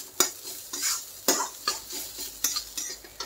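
Poha being stirred in a pan with turmeric, salt and spices: quick, dry scraping strokes of a spoon against metal in an uneven rhythm, close and fairly quiet, with a faint sizzle underneath.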